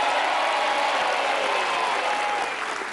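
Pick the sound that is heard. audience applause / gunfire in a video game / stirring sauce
audience applause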